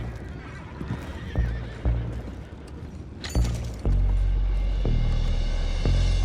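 Horses neigh and whinny over clopping hooves in the video game Red Dead Redemption 2, with a low rumbling background that grows heavier toward the end.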